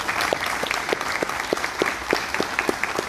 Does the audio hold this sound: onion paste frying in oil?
no